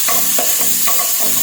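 Garlic frying in Star margarine for a tamarind goat-head stew, with a steady sizzle under repeated rhythmic stirring scrapes, fairly loud and close.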